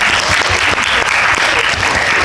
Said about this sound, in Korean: 김재욱 배우님께도 박수를 한번